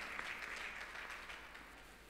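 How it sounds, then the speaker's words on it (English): A church congregation claps together in praise, a steady dense wash of hand claps that stays even throughout, fairly faint and distant, with no voices standing out. "Clap your hand for Jesus."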